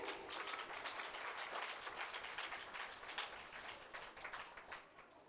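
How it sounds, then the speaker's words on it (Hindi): An audience claps loudly at a hymn release ceremony in Rattanabad, Mirpur Khas, a continuous crackle of many hands heard at a distance, fairly quiet overall and fading slightly toward the end. "तारीफ में हम जोरदार तालियां बजाएंगे।"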